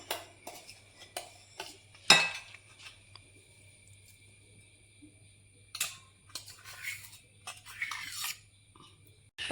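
A spoon scrapes ground chocolate cake powder into a bowl for a three-ingredient homemade chocolate cake, with a few quiet, scattered clinks and short scrapes separated by near silence.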